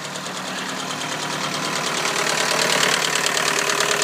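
A 2001 Volkswagen Golf TDI diesel engine idles steadily after a -25°C cold start, a close, continuous clattering knock with a fine rhythmic tick that grows slightly louder partway through, no voices present.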